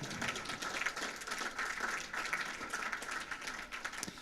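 An audience applauds with dense, steady clapping in a lecture setting, moderately distant and continuous for several seconds with no talk over it.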